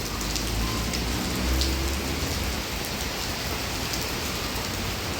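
Steady rain falls in a continuous hiss, with droplets pattering on a surface nearby.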